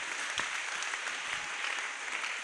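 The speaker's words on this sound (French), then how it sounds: "Est-ce que tu peux acclamer très fort pour le Seigneur?" A church congregation claps and cheers during a Thursday prayer service in Lubumbashi, a dense burst of applause throughout, moderately loud and without clear speech.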